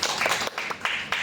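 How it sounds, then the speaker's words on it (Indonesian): A classroom audience claps in brief bursts, a few quick rounds of hand claps rising and falling over about a second, close and moderately loud. "Mungkin bisa diberikan tepuk tangan."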